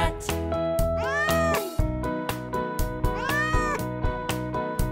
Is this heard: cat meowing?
yes